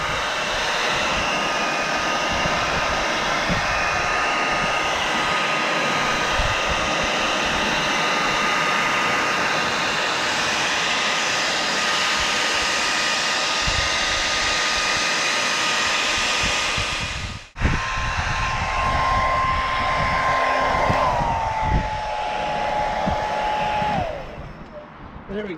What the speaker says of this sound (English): How to dry a bike spicy style. Use a bloody hairdryer.